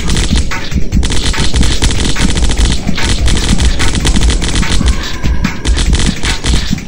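Assault rifle fire in the zombie shooter game Zombocalypse: a loud, unbroken stream of rapid automatic shots, close and steady for the whole stretch with no pauses and no voices.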